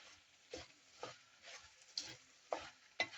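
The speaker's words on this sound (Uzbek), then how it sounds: "Tomatimizni aralashtirib olamiz" Tomatoes frying in a pan and being stirred, a soft sizzle beneath six evenly spaced scraping strokes, quiet and close.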